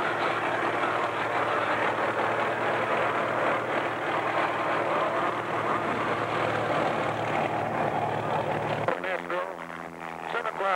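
A T-28B propeller aircraft drones steadily overhead at the Reno air show under a public-address announcer's voice, with the engine roar shifting tone near the end.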